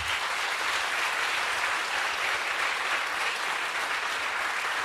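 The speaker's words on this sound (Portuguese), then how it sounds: "Vamos aplaudir Jesus bem forte" A church congregation applauds loudly and steadily throughout a worship celebration service, a dense continuous wash of clapping with no break.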